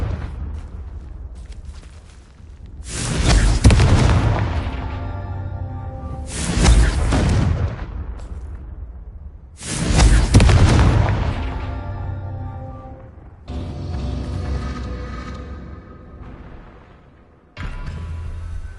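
Repeated fiery blasts of the Confringo spell in the video game Hogwarts Legacy, three loud booms a few seconds apart with crackling tails, then softer rumbling effects.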